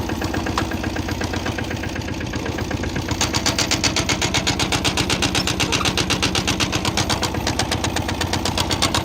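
A tractor engine idles close by, a steady rhythmic chugging that grows louder and more pronounced after the first few seconds, with no talk over it.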